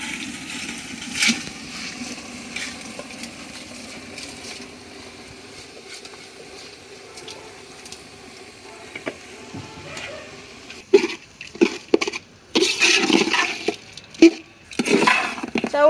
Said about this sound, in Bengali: এবার ধুয়ে রাখা চাউল ও ডাউলগুলো দিয়ে দেবো